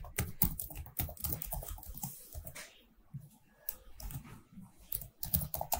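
Java code typed on a computer keyboard, quick irregular key clicks in bursts with a brief pause, close and fairly quiet.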